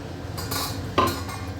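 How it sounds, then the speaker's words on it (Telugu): Clatter of a metal lid set onto a pot of Andhra-style fish curry (chepala pulusu), with soft handling noises before a single sharper clink near the middle, close and fairly quiet. "ఇప్పుడు మూత పెట్టేసుకుందాం"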